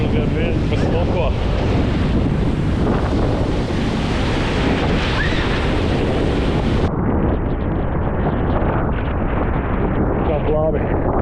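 Strong sea waves break on a windy beach at Klaipėda, a loud continuous roar of surf mixed with heavy wind buffeting the microphone throughout.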